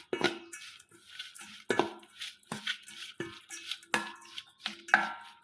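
Stuffed chili filling being mixed with tamarind juice in a bowl, giving a series of irregular wet clanks and scraping strokes roughly every half second, close and fairly quiet, with no talking.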